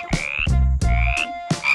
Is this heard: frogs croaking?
yes